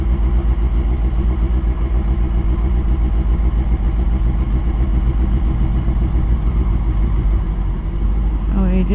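A motorcycle engine in first gear pulling away, a steady, loud, close mechanical drone that holds throughout with little change in level.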